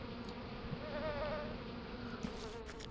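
Bees buzzing around an apiary in the desert crafting game A Tale in the Desert 7, a steady close insect drone that hums without a break for the whole stretch, with no talking.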